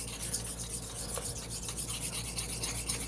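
A straight razor honed on a stone to set the bevel, with pressure put toward the edge: a continuous soft, gritty rubbing and rasping that keeps an even back-and-forth texture, close and fairly quiet.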